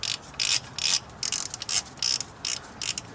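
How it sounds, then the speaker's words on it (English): A 30mm socket on a ratchet loosening valve cover nuts on a 1998 Toyota Celica's 2.2L 5SFE engine: close, crisp bursts of rapid ratchet clicking in short repeated strokes, with brief pauses between them. "So with the 30mm socket and ratchet,"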